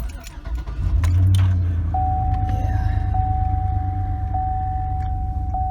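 A big vehicle engine cranks and catches around one second, then settles into a steady, loud low idle, with a faint repeating electronic chime over it and brief handling clicks.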